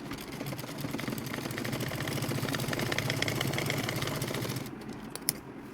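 A sewing machine stitches the leg hem of a baby's palazzo pants, a steady close whirring hum that runs most of the way before stopping near the end.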